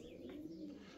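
Pigeons coo nearby in the morning, a low, soft rolling call held through the whole moment with faint outdoor background.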